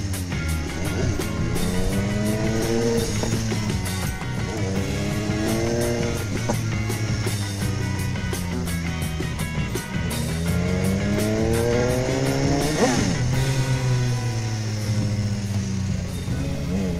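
A BMW S1000R motorcycle revs and accelerates hard through repeated gear climbs, its engine note rising and dropping in loud sweeping waves close to the rider, with road and wind noise underneath.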